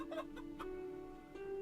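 Chickens in a farming video game cluck softly a few times, faint and scattered over a steady background hum.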